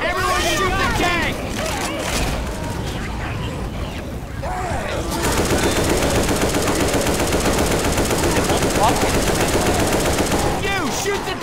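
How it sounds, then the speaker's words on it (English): Sustained, dense automatic gunfire aimed at the Tank in Left 4 Dead 2, loud and nearly continuous for the whole stretch, with a brief lull before it intensifies midway, while voices murmur underneath. "Everyone shoot the tank."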